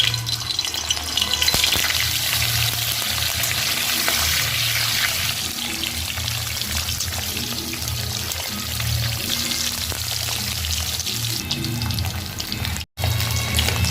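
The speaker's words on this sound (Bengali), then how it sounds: "পনিরগুলো ছেড়ে দিব তেলে" Paneer pieces frying in white oil in a kadai give a steady, dense sizzle and bubbling hiss that runs on without pause, with a brief dropout near the end.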